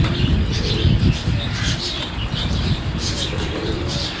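Roller pigeons in a breeder's loft coo steadily close by, with soft chirps and some wing rustle mixed in over the whole stretch.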